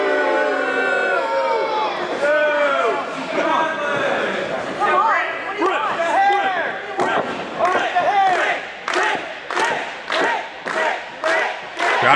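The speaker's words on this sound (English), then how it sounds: "Crowd coming alive for Britt" A wrestling crowd at a Britt Baker match roars and chants, and the noise swells into loud rhythmic claps or stomps toward the end, with a commentator talking over it.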